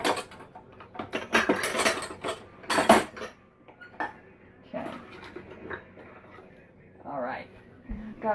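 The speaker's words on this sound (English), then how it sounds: "Knife and scoop. I'm just going to lay those down at the front here." Kitchen knife and small dessert scoop set down on a surface one after another, giving bright metallic clatters and clinks up close, with a person talking between them.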